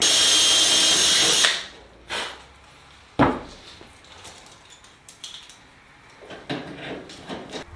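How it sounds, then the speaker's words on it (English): A power drill whines loudly for a second and a half, then several short, sharp drill bursts and metallic clinks follow with quiet gaps between as rivets are drilled out on an aircraft turtledeck. "the next thing I need to do is drill these out"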